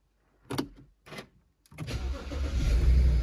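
A BMW E92 starts up: a couple of clunks and the starter cranking, then the engine catches and settles into a rising, steady idle rumble, close by.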